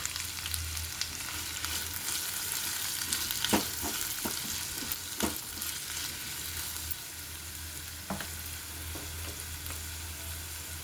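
Onion pieces, curry leaves and green chillies sizzle steadily in hot oil, a continuous close frying hiss with occasional sharper crackles and stirring clinks, no one speaking.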